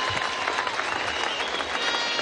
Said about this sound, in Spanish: Un aplauso para Tania Díaz.